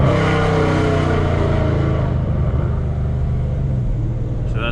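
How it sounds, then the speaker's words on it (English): A Dodge Challenger ScatPack with long tube headers downshifts with its active exhaust valves open, giving a loud, steady, deep rumbling exhaust drone up close that eases slightly toward the end, with no voices. "So that's a really nice downshift."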